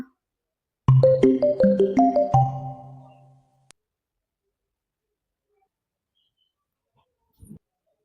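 A melodic phone ringtone plays a short rising sequence of tones, stops, and is followed by silence and a faint brief sound.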